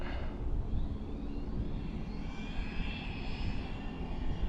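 A Team Corally Asuga XLR RC buggy motor gives a steady, high-pitched whine like a small jet engine, continuous and fairly loud over a broad rumbling roar, with no talking.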